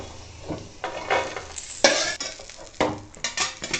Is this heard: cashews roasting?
yes